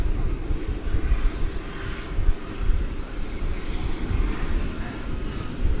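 A Boeing 747 departs from DFW Airport, its engines producing a loud, steady broadband roar with a faint high whine, heard from a distance outdoors without any voices.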